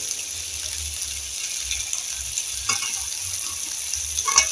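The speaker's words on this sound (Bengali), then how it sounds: "এবার আমি এগুলো ভেজে নেব।" Vegetables sizzle steadily in hot oil in a wok with a constant hiss, a few sharper pops and light scraping near the end, with no voices.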